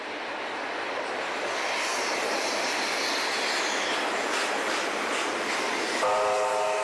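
Steam banking locomotives rolling downgrade, a broad steady rumble of moving rail cars and wheels with no clanking, then a sustained horn-like whistle tone near the end.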